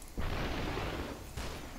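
Gunfire in the video game Superhot: two broad, noisy bursts, the first sustained for about a second and a second shorter blast following, loud and close with no talk over them.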